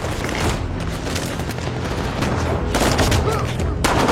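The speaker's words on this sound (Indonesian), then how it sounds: "Di luar gedung, aksi saling tembak masih terus terjadi." An action film shootout outside the White House between presidential guards and terrorists plays as loud, dense, continuous gunfire with booming blasts, sustained throughout and getting more intense toward the end.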